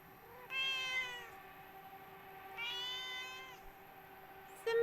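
A cat meows twice in long, drawn-out calls close by, then gives a short third call at the end, over a steady low hum.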